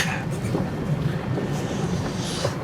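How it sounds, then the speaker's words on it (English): Storm wind gusts steadily around a boat anchored in a bay, a continuous loud rushing roar with buffeting on the microphone and no pauses. "In a bay, waiting out a storm."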